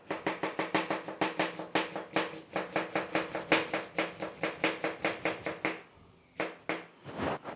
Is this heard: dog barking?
no